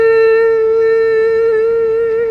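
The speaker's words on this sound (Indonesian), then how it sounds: "Kue putu yang kalau pas jualan bunyi." A kue putu street vendor's steam whistle gives one steady, loud, shrill tone that holds unbroken for the whole stretch, with no voices.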